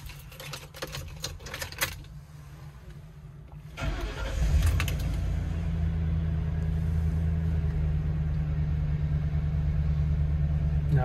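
A 2008 Ford E-150 van with a BraunAbility wheelchair lift cranks and fires up, settling into a steady, loud idle after a few seconds of clicking and shuffling in cold weather.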